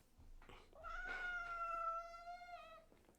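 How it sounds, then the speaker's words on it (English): A single drawn-out, complaining cat meow, rising then wavering for about two seconds, close and clear against a quiet room. "That was an upset little meow."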